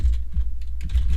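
Typing on a computer keyboard, a quick run of soft, close key taps with a short pause midway, no talking.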